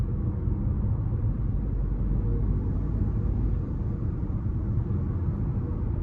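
A 2024 Chevrolet Trax ACTIV with a turbocharged 1.2-litre three-cylinder engine is heard from inside while driving, a steady low rumble of engine and road noise that holds at an even level throughout, with no voices.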